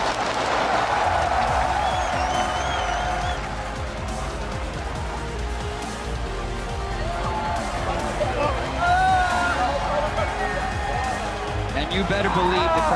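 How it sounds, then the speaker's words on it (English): A large esports arena crowd at a League of Legends World Championship final gives sustained applause and cheering, a dense roar throughout, with a commentator talking over it. "the crowd's giving a standing ovation after that one"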